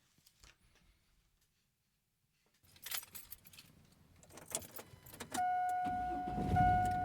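Someone gets into a car: faint rustles and a quiet pause, then key jangles and door clunks, followed by a car engine turning over into a steady hum with a sustained electronic chime on top.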